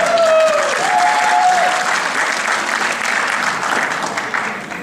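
An audience at a community Gudi Padwa program claps steadily and loudly for several seconds, a dense wash of applause that fades slightly toward the end, with a faint tone briefly audible at the start.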